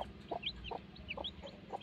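A native hen clucks softly in short repeated notes while high, thin peeps of newly hatched chicks chirp around her, close and fairly quiet.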